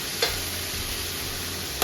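Potatoes and vegetables fry in a pan for Bengali-style chowmein, giving a brief steady sizzle with light stirring clicks at start and end.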